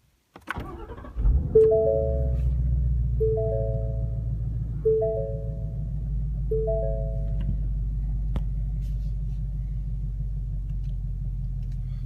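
A 2016 Ford Mustang GT V8 with automatic transmission fires up by push button, a sharp starter catch followed by a loud, steady low rumbling idle, with a few repeated electronic chimes ringing over it.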